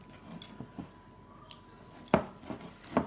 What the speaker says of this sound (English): Give that a good old stir.